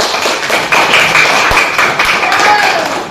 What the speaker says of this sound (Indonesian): Boleh tepuk tangan buat kita.